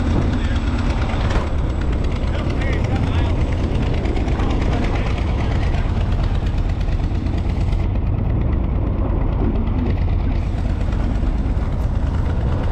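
A tractor engine runs loud and steady at close range, a continuous low rumbling drone that holds throughout, with voices faintly under the noise.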